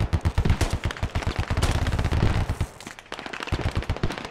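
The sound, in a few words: machine gun fire in the video game Squad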